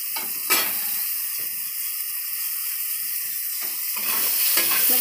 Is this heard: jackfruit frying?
yes